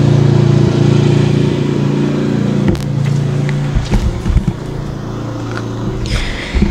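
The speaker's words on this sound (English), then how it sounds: "someone just drove by on their lawnmower." A riding lawnmower's steady motor hum with engine harmonics passes close by, then fades as the rumble shifts, leaving scattered clatter and light knocks.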